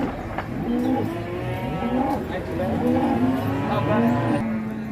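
Cattle at the Ngawi livestock market moo in deep, drawn-out bellows, several calls overlapping near and loud over a busy background.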